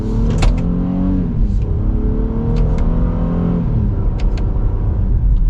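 A 2021 Honda Pilot Special Edition three-row SUV accelerates hard at full throttle, its engine note rising steadily from inside the cabin, with a couple of smooth gear shifts breaking the climbing roar; loud and continuous, no talk.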